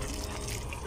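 Chinese-style sotanghon soup with quail egg drips and trickles while being served, a close, continuous wet splashing with no voices.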